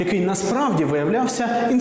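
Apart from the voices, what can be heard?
No everyday noise stands out behind the speech.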